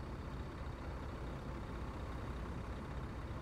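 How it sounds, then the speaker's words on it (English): Steady, unbroken rumble of a simulated truck engine cruising along a Nebraska road, with no speech. "The truck doesn't sound bad at all, to be honest."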